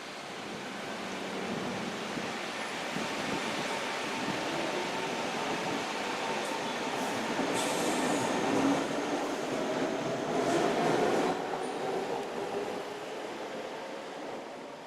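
A metro train rumbles and whooshes through Choa Chu Kang MRT station in Singapore, swelling louder mid-way with faint squeals and brakes, then easing off, no voices.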